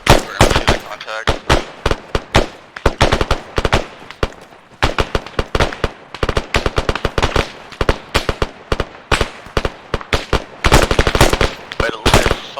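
A video-game military squad fires together during training, dense overlapping bursts and single gunshots cracking loudly and continuously with brief gaps, some voices faintly underneath.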